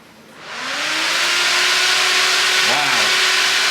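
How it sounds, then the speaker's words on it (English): A newly installed electric cooling fan spins up from rest, its whir rising quickly to a loud, steady drone with a clear tone, holding strong to the end with a brief wobble near the close. "I want to test it, make sure it spins okay before I mount it in its permanent home"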